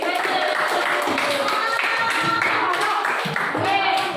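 Classroom of students at a junior high school clapping together, a dense scattered patter of hands under lively chatter and voices, moderately loud and continuous throughout.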